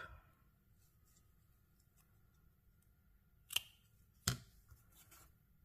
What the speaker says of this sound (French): Bien gentiment, on coupe.